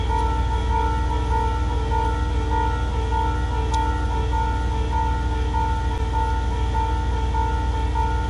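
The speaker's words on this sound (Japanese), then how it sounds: "あれ電車が鳴ってんの？" A train sounds a steady tonal signal at Oyashirazu station in Echigo, Niigata, with stacked sustained tones over a continuous low rumble for several seconds, and no talk.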